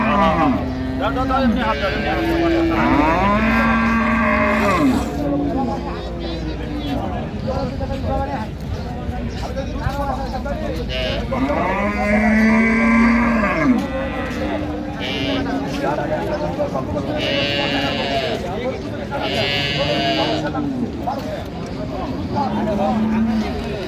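Improved-breed dairy cows and calves at Raniganj market, Dinajpur, moo again and again, long loud lows from several animals near and far amid steady market hubbub and nearby conversation.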